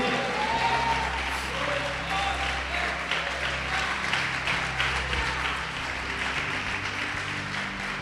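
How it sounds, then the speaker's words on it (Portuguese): Church congregation applauding during a service, continuous clapping from many people with voices talking and calling out underneath. "Pode aplaudir e glorificar o Senhor."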